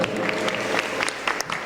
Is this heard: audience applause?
yes